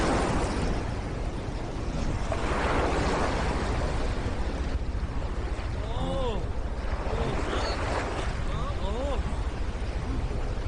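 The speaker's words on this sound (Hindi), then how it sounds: "समुद्री तूफान।" Wind and crashing waves of a sea storm in a dubbed kids' cartoon roar steadily throughout, with faint wailing tones rising midway.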